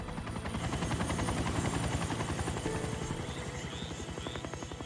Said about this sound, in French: j'ai enfin entendu un hélicoptère